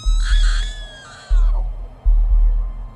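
A loud, drawn-out scream sound effect from a camping horror story, high and wavering as it rises then slides down, backed by heavy low booming thuds that hit in three repeated pulses.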